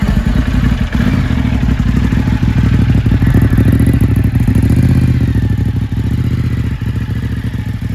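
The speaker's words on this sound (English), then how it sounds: "let me just start it so you can hear the exhaust." Ducati Hypermotard 939 SP motorcycle engine and exhaust idling close by, a loud rumbling throb with rapid firing pulses and mechanical clatter that holds steady throughout.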